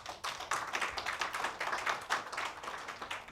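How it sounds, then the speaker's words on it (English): An audience at a cybersecurity roundtable applauds the panelists with steady, dense clapping that starts abruptly and keeps an even level for a few seconds, with no talking over it. "give them a very resounding sort of applause"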